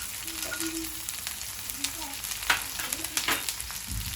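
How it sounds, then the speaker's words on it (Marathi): Capsicum and ginger-garlic paste sauté in a hot pan for a Thai chicken dish, giving a steady close sizzle with a few stirring scrapes and spatula knocks and no talk. "त्यानंतर आपण टाकणार आहे अद्रक लसूणची पेस्ट"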